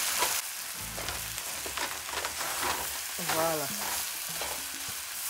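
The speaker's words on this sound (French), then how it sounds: "Faut frire le riz. Ce n'est pas que ça se colle. You need to fry the rice first." Rice fries in a pan with garlic powder and curry for red fried rice with mutton, sizzling steadily while a utensil scrapes and stirs in bursts; a voice speaks one short word briefly.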